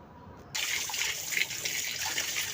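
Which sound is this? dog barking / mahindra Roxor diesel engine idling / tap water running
tap water running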